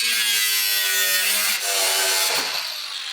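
Aluminium bonnet of a GR Yaris being cut by a power tool, with a loud, steady grinding and sawing buzz that runs continuously, close up, throughout.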